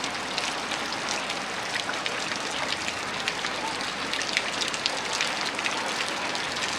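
Steady rain pours onto surfaces in a village near the Vietnamese border, a dense continuous hiss of drops with no break, moderately loud and close throughout.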